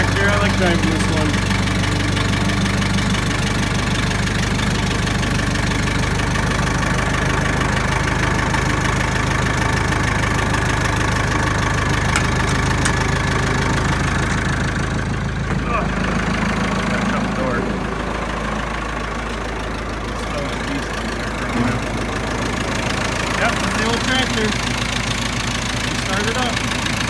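A Massey Ferguson 175 diesel tractor idles after a cold start with a steady, loud, knocking rumble that continues throughout, slightly easing midway, with no other prominent sounds.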